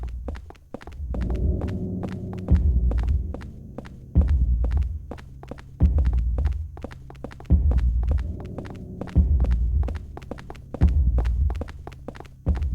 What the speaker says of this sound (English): Got that heartbeat going, just for the extra unpleasantness.